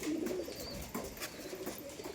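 Pigeons in a tumbler loft coo softly and repeatedly, low rolling calls overlapping in a gentle, fairly quiet murmur with faint flutters and chirps around them.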